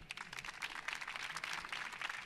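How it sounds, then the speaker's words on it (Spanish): Steady, dense applause from an audience at a Mexican coding conference, a continuous patter of many hands clapping at moderate volume throughout. "Por favor, un fuerte aplauso para él."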